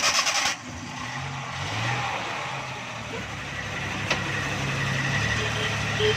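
Suzuki Ravi pickup engine starting after gear repair, then idling and reversing: a steady, moderate engine drone with a small bump partway through and no talk.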